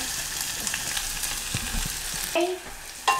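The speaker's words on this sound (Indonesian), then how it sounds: "Ini sekarang kita tumis. Ini tetelannya." Beef trimmings sautéing in a pan, with a steady close sizzle and a few soft spatula scrapes, then two brief sharper clinks of metal near the end.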